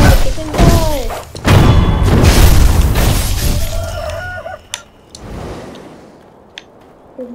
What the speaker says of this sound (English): let's just kill all these chickens